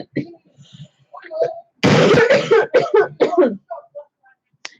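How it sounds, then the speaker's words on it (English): A burst of several harsh coughs and throat clearing, close and loud, with quieter murmured talk before and a few faint sounds after. "if I end up coughing a lot, please excuse me"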